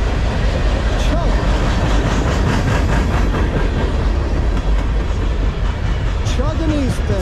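Eastbound CSX M404 freight train rumbling past close by, a steady heavy roar with clattering wheels throughout, a brief horn-like tone near the end, under faint talk.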